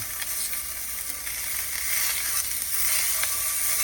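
Boudin-stuffed pork chops sear in a hot pan with a steady, bright sizzle, growing a little louder midway, with occasional faint clicks and no talking.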